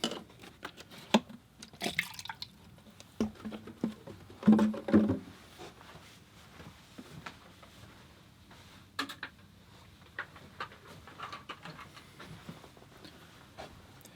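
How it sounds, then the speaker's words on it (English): Water being changed and poured for watercolor painting, with fresh clean water filling a container in a few splashy bursts and drips among handling clatter, close and moderately quiet, no talking. "I'm going to change the water here, and I'm going to add some more fresh, clean water."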